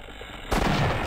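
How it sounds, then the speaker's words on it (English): A shotgun in Half-Life fires once, a loud sudden blast that cuts in halfway through and rings out with a heavy, noisy tail. "Shotgun does decent damage to him,"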